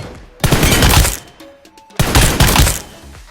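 A headshot sound effect in PUBG Mobile lands as two loud, close bursts of rapid gunfire, each cutting off sharply, with a brief gap of quieter clicks and tones between them.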